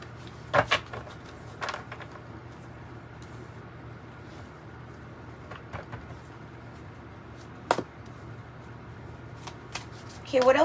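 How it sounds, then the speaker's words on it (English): Tarot cards being shuffled in hand during a reading, with a few brief riffling bursts and soft card taps over a steady low hum, fairly quiet and close, with no one speaking. "Let's shuffle a little bit more."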